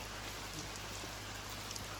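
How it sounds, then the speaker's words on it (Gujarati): Rain falls in a forest near Pavagadh, a steady, soft, even hiss of drops with no distinct rhythm. It is faint and continuous, and no one speaks. "તો તમે જોઈ શકો છો કે ગાઈસ વરસાદ કેવો પડે છે"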